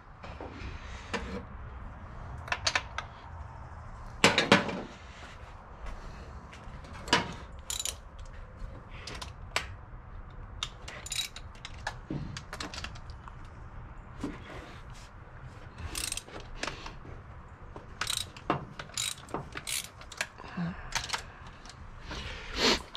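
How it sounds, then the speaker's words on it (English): Wrench work taking a carburetor off an engine manifold: scattered sharp metallic clicks and ratcheting taps, irregular and close, with quiet pauses between bursts. "So just taking off the carburetor."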